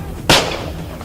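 A hunter fires a single gunshot at a bear in a forest, producing a sharp, loud crack that decays quickly against low background noise.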